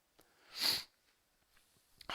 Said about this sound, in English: So sorry about the sniffling, you guys.